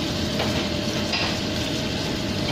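Onions sizzle in a hot pan while being stirred for an Indian-style curry rice, a steady bright frying hiss with soft scraping of the spoon, close and continuous.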